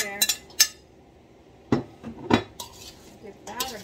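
Utensil clinking and scraping against a bowl while lime sour ingredients with pepper and garlic are mixed, a few sharp knocks spread over a few seconds with quieter stirring between, no talking.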